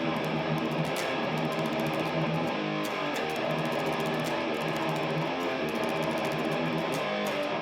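A riff plays on heavily distorted electric guitar, with rapid tremolo-picked open power chords. It is a dense, continuous, driving wall of sound at moderate volume, with no talking.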